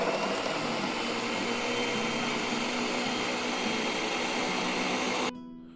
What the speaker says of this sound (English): We're gonna be blending this up to a smooth, and then we're gonna throw in the rest of them to post.